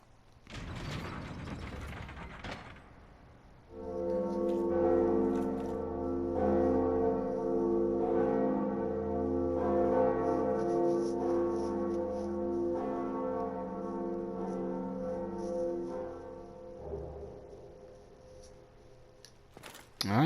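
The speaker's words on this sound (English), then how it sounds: "here is the second bell" The second bell in Dark Souls tolls with long, resonant ringing tones layered over mechanical clanking and ratcheting, sustained for most of the stretch before fading out near the end.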